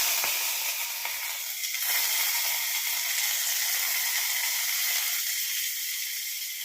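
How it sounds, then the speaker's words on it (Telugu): Tadka, a hot tempering, sizzles in a pan of dal as it is added, giving a steady, bright hiss that carries on evenly with no talking. "నేను పప్పు తాలింపు పెడుతున్నాను ఫ్రెండ్స్"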